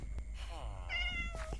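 A cat meows in the Minecraft video game: a few short, clear, close game meows over a low background hum.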